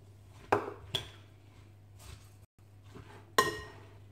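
Clinks and taps of utensils against a bowl or jar while red cabbage salad is mixed with oil and vinegar, a few sharp isolated strikes spread over a quiet background with a low steady hum.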